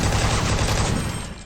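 A rapid, dense burst of gunfire fired around corners, loud and continuous like a fusillade, filling the whole moment with no pause between shots.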